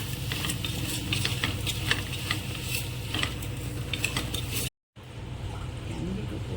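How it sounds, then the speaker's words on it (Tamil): Steady sizzling and scraping of vegetables being sautéed and stirred in a hot pan, continuous with a brief dropout near the end. "எல்லாத்தையும் சேர்த்து நல்லா வதக்கிக்கலாம்"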